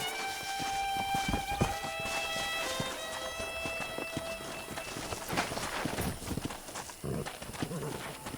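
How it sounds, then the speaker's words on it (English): Hooves clip-clop rapidly in the video game Red Dead Redemption over ringing music, with a voice speaking partway through and a horse whinny briefly audible. "there's a pack of wild horses nearby"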